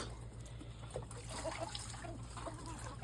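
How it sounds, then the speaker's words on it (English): Water runs into small pools set out for chickens on a homestead, making a steady, quiet trickle and splash with no one speaking. "filling up the little water pools."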